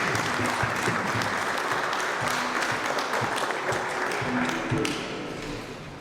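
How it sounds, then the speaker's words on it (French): Audience applause at a public debate on secularism, a dense, steady clapping that fills the room for about five seconds before fading, with no talk over it. "Un peu d'applaudissements s'il vous plaît."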